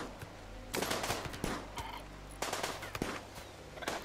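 Rapid bursts of video game gunfire from Rimworld colonists shooting at tortoises, sharp repeated cracks in clustered volleys over a steady low background hum.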